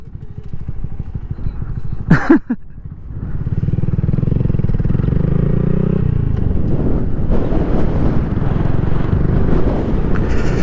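A Honda MSX motorcycle with the exhaust baffle left in idles, then after a brief clatter revs up into a steady, loud buzzing engine note that holds and swells slightly, close to the microphone with some wind noise.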